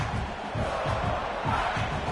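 A fired-up home crowd roars at a football game, a dense, continuous wash of cheering and shouting that stays loud and steady from start to finish.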